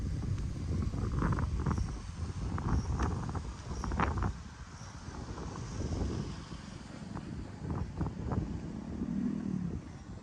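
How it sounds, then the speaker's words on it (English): Breezy wind at the harbour in St Peter Port, Guernsey, makes a steady low rumble and buffeting against the microphone, with a few faint intermittent background sounds throughout. "Yeah, it's just a little bit breezy around here."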